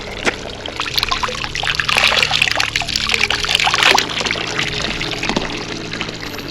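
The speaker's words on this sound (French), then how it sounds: "Une source d'eau naturelle qui vient directement de la montagne." Natural spring water runs straight off a mountainside on a Brienz Rothorn hiking trail, a continuous close trickle and splash that stays bright and steady throughout, with no voices.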